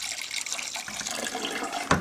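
Water pours into a primary fermenter while brewing beer at home, a soft, continuous splashing and trickle, close by, with a brief louder splash near the end.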